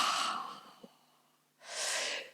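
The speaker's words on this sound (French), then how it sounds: "si on peut bâiller" A breathy yawn-like exhalation during a stretching exercise, arms raised overhead and feet pointed, heard as a short soft breath, a pause, then a longer airy yawn near the microphone, with no talking.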